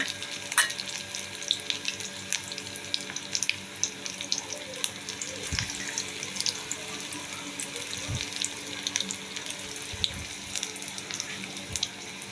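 Cauliflower chops fry in hot oil with a steady, close crackling sizzle scattered with small pops and a few louder clicks, while no one speaks.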